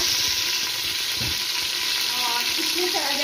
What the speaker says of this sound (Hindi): प्रेशर कुकर में मैंने हाफ कप घी का डाल दिया। इसमें चला जाएगा प्याज